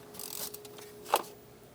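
A ratchet turning intake manifold bolts on a 4.8L Chevrolet Express, faint close-up clicking with one sharper snap near the end in a quiet space.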